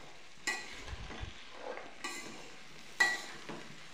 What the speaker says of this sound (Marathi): तर व्यवस्थित असं 2 मिनिटं मी परतून घेते।